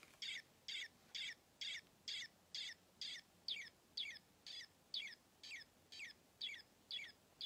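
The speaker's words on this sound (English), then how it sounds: "Oh, it's trying to chirp." A vintage peep chirper toy gives about fifteen evenly spaced high chirps, close and steady, over a quiet background.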